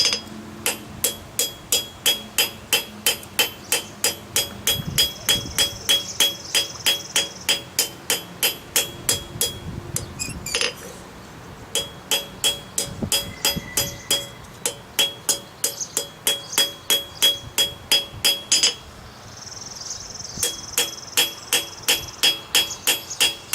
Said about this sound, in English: Then I'm going to go back and planish the other side the same way.